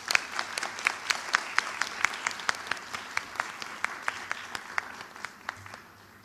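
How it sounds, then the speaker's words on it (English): Applause at a United Nations Academic Impact research paper competition ceremony: a small audience's sparse, distinct claps, fairly quiet and evenly paced, thinning out toward the end with no talk over them. "Please welcome him with a warm round of applause."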